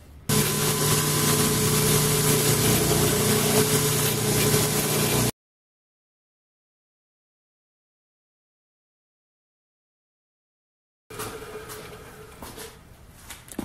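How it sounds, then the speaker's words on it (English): Buffer wheel polishing a copper tubing bracelet, a steady motor hum with rushing whir for several seconds, then silence, then a fainter, uneven polishing whir returns. "So now I'm going to run this on the buffer."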